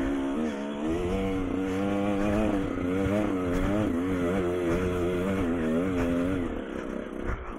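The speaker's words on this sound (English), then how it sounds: "Little blip of the throttle. And in conjunction with letting the clutch out." A dirt bike on Utah single track, ridden with a flat rear tyre, gets throttle blips while climbing over an obstacle, its engine buzzing up and down in close, pulsing surges.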